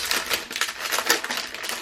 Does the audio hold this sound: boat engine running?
no